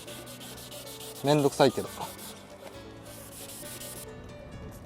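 Continuous hand sanding of a yellowed car headlight lens with coarse sandpaper, a steady close scratchy rasp with a brief muttered comment in Japanese partway through.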